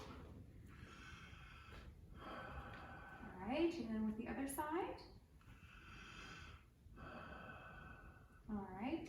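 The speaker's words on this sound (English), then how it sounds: "you're going to occlude one nostril and then breathe in and breathe out" A person breathes in and out through one nostril while the other is blocked, giving audible snorting inhales and exhales between spoken instructions during an older adult health assessment.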